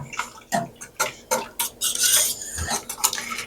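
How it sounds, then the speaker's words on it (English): A whisk clatters against a pot while tomato paste is worked into a marinara sauce with red wine, giving a run of close, quick metallic scrapes and clinks with no talking. "I'm going to go ahead and whisk all of it because of the tomato paste to get it all broken up."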